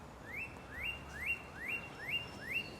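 Garden birds on Cape Cod sing during a break in the rain, repeating a quick rising chirp about six times in an even rhythm, faint and somewhat distant against quiet background noise.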